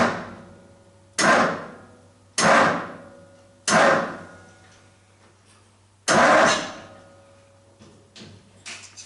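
A 1939 Ford Standard engine cranks in four loud bursts on its first start-up, each a grinding starter turnover that fades, separated by pauses, followed by faint clatter at the end.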